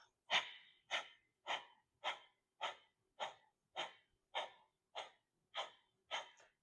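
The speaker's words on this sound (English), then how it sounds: "Kapalabhati, which is a series of exhales out of the nose" Kapalabhati breathing during an Ashtanga yoga session: a series of about eleven sharp, forceful exhales through the nose, evenly spaced roughly every half second, close and clear with silence between each puff.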